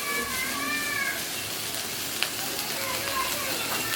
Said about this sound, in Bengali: হয়ে গেছে আলু ফ্রাই।